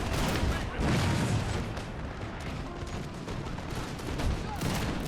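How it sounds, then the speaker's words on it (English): Cannon fire in a Total War: Napoleon battle, dense rumbling booms and volleys of gunfire rolling continuously and loudly, with faint voices in the mix. "was that a cannon shot?"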